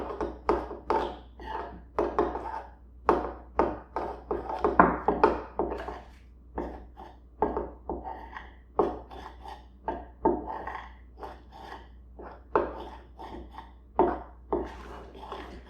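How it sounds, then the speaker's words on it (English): Cornstarch being stirred into cloud dough with a utensil makes a long run of close, rhythmic scraping and rubbing strokes in a quiet room, with no talking. "I'm going to put it in slowly and mix at the same time with my utensil"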